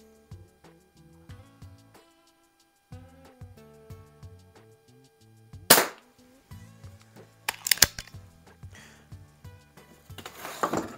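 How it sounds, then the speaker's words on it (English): Umarex Ruger Mark IV .177 break-barrel pellet pistol fired at a bullseye target on a snowy night, with a few sharp cracks standing out over a background of music, close and fairly loud. "I'm shooting at a target like this with little tiny bullseyes"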